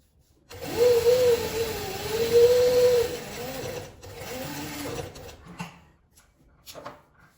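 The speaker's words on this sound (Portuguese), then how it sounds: "E vou passar uma costura." A domestic sewing machine runs a seam through fabric for a cosmetic bag, whirring steadily at close range for several seconds. It slows with a short burst and stops, leaving faint handling sounds.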